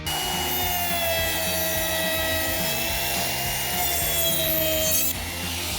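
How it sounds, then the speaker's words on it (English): A wood router trims the edges of wooden top and cap pieces for a hummingbird feeder, a loud continuous high-pitched whine with rubbing cutting texture, close and steady, no voices. "We've finished up routing the edges of our top and our cap."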